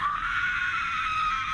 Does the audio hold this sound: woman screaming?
yes